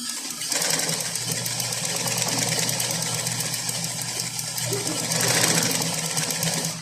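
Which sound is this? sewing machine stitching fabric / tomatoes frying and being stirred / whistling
sewing machine stitching fabric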